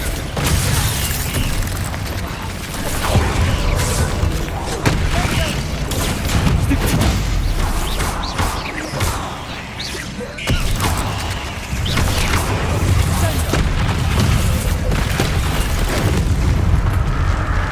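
Confringo spell blasts in Hogwarts Legacy burst as a dense, loud run of booming explosions and crackling impacts, with rumbling debris and voices over the combat din.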